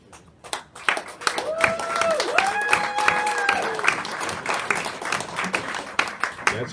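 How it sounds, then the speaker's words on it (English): Audience applause at a conference on its second day, steady clapping throughout with a person talking over it near the middle. "That's called pause for applause."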